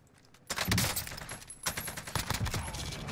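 A PPSh submachine gun fires in a first-person shooter game, dense rattling bursts with sharp overlapping reports and loud crackling over a couple of seconds, amid busy battle noise.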